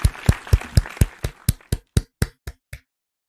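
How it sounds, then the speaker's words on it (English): Slow, sparse clapping from a few hands for a crossword puzzle, about a dozen distinct claps close up that thin out and stop, leaving silence at the end. "Round of applause"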